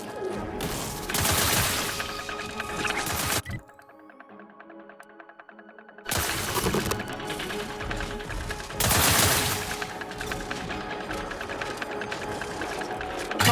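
Rapid automatic gunfire in The Outer Worlds 2, loud sustained bursts that break off for a couple of seconds of quieter hum, then resume heavily.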